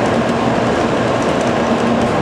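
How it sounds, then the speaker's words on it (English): A Shinkansen bullet train in Japan roars past close by, a dense continuous rushing noise with a faint whine, loud and steady throughout. "there goes the Shinkansen"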